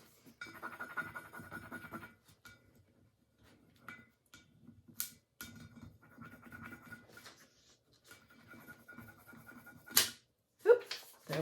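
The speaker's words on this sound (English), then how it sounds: "Just keep burnishing." Ink transfer being burnished off its plastic sheet: intermittent dry scratchy rubbing strokes, close and fairly quiet, in short bursts separated by pauses, with a couple of sharper ticks near the end.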